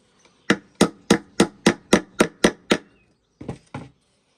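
Nails hammered into a wooden beehive frame in a village workshop: about nine sharp, evenly spaced blows close to the microphone, a short pause, then a few more strikes.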